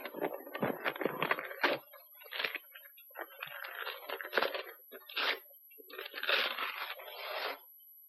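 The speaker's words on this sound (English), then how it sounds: "in order to get a proper color test, you must first unwrap the sample" A sample for a colour test being unwrapped from its packaging: irregular bursts of crinkling and crackling, close and fairly loud, coming in clusters with short pauses between handfuls.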